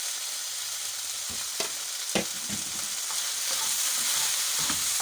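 Garlic and ginger fry in a pan for beef and broccoli, a steady soft sizzle broken by a few sharp clicks and scrapes of stirring, swelling slightly louder toward the end.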